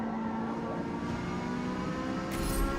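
A racing-game car engine splutters and hesitates at low RPM, sounding as a loud, steady, rough drone with a brief rise near the end and no talk over it.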